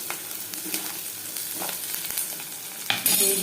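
Boiled, salted jackfruit seeds frying in a pan, a close steady sizzle with irregular scraping strokes and a louder burst of spitting near the end, no voices.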